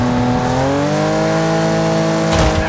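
A Speed Demon car in the racing game Wreckfest revs loudly and steadily, its engine tone climbing gradually, with a short rough burst near the end. Close and continuous, with no talk.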